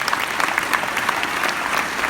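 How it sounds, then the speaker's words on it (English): A large indoor audience applauds steadily and loudly at a 2017 Oklahoma Conference of Churches interfaith gathering, with dense continuous clapping that sweeps on without a break for the whole stretch. "let's give a round of applause to the Oklahoma Conference of Churches"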